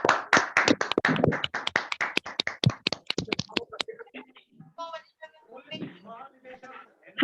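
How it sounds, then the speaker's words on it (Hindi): Students clap at a college event, a burst of distinct, fairly close handclaps for about four seconds that stops, followed by speech. "तालियों की गड़गड़ाहट रुकनी नहीं चाहिए स्टूडेंट्स।"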